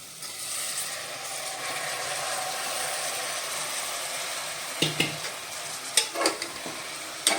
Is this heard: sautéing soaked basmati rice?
yes